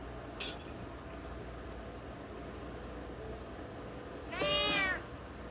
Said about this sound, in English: I can hear cats sleeping in the background